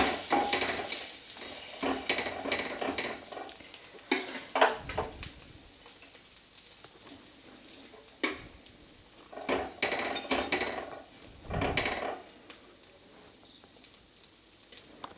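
A potato-spice sandwich frying in a pan, soft sizzling under repeated clinks and scrapes of a spatula against the pan as it is flipped, with quiet gaps between bursts.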